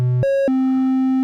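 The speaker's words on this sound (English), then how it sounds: "Oscillator 3 is currently a sine wave." An ASM Hydrasynth synthesizer oscillator plays a pure sine wave. Steady, clean tones step up in pitch and then drop to a lower sustained note, with nothing else heard.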